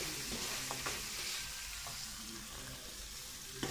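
A jaggery gajak mixture cooks in a pan over a low flame while a spoon stirs it, giving a soft, continuous bubbling sizzle with faint scraping clicks and no speech.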